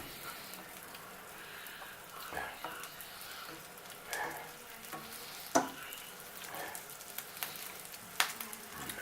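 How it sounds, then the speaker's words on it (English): Sugar snow peas sauté in a hot pan with a soft, steady sizzle and occasional stirring scrapes, quiet and close. "got a little sugar snow peas I'm sauteing at the same time"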